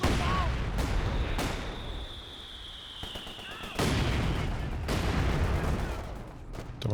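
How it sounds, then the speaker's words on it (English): Mortar rounds exploding in the video game Company of Heroes 2, several loud booming impacts spread across a dense battle din with gunfire crackling between them. "Mortar rounds! Look out!"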